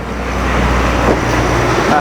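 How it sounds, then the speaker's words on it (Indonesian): A truck passing on a road outside a car showroom, heard as a steady, loud broadband roadway rumble that holds for the whole moment with no clear peak. "Guys, ada truk."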